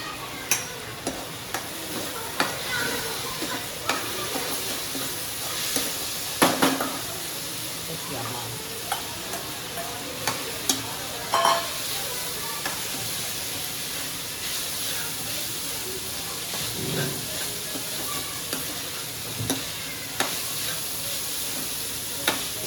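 A continuous sizzle of capsicum and vegetables stir-frying in a pan with soy sauce, broken by frequent scraping clacks of a spatula stirring, with soft talk now and then.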